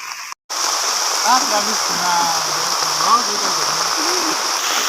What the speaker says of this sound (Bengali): দেখেন কিরম বৃষ্টি পড়তেছে